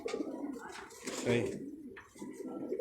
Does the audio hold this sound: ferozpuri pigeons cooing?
yes